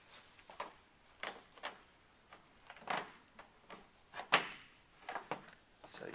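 Plastic access doors sliding into place on an Aerobin 200 l composter during assembly, with a run of short scraping and knocking clicks at uneven intervals, close and fairly quiet.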